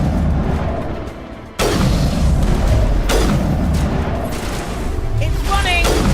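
A rocket explodes in Mass Effect with a sudden loud boom, and more heavy blasts and gunfire follow in quick succession while a voice talks over the action.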